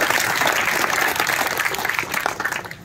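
Dense applause from an outdoor political rally crowd at a Ahilyamai Holkar birth anniversary event, loud and close, steady clapping that thins slightly toward the end.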